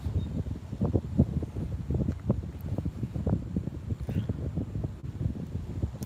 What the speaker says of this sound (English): A little breezy out today, but it's out of the north.